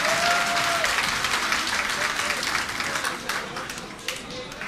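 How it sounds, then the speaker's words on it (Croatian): Crowd applause at a Bosnian community gathering in Chicago welcoming guests from Michigan, loud sustained clapping from a large room, with a voice briefly heard over it early on, gradually easing toward the end. "pa jedan aplauz i za Michigan"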